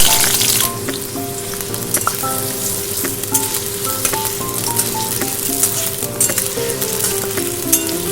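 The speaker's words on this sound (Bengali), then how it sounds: "ডুমো করে কেটে রাখা আলু ভেজে নেব।" Diced potatoes frying in oil give a loud, continuous sizzle with occasional utensil clinks, and soft tonal background music runs underneath.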